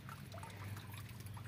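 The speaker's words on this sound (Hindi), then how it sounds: "यह है ट्यूबवेल, इसे कहते हैं ट्यूबवेल।" Water gushing from a village tubewell to irrigate fields, a steady close pour under a strong low pump hum.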